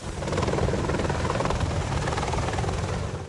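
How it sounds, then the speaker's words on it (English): British Apache attack helicopters aboard HMS Ocean, preparing for action over Libya, make a loud, steady rotor thrum that carries on without a break. "British Apache helicopters on the HMS Ocean prepare to go into action over Libya."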